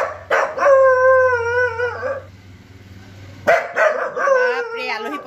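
A dog at a house howls in a long, wavering wail, falls briefly quiet, then barks and howls again in an excited burst, loud and near.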